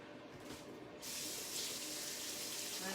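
Coconut-flour-coated fingers rinsed under a running kitchen tap, a steady broadband water rush that swells louder after the first second and continues without a break.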